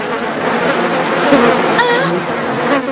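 A dense cartoon swarm of flies buzzes loudly and continuously, a thick droning hum that swells slightly midway, with no talking over it.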